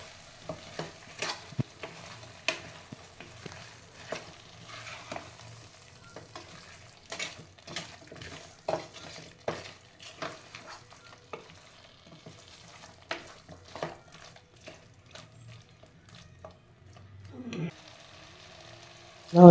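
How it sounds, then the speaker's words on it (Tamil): Eggplant and drumstick kuzhambu ingredients stirred and sautéed in a pan: a soft sizzle with repeated scraping, clattering strokes of the spoon, close up and with no talk. "எல்லாம் சேர்த்து நல்லா மிக்ஸ் பண்ணி விட்டுக்கலாம்."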